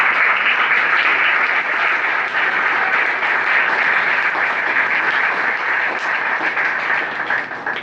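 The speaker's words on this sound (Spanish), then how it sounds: "Un aplauso al Señor." A church congregation applauds during a Sunday sermon, with sustained, even clapping from many hands that fades slightly toward the end.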